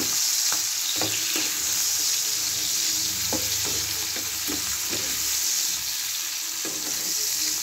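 Red and green capsicum with onion frying in a pan, a constant crackling sizzle close by, punctuated by several clicks and knocks of stirring against the pan, no voices.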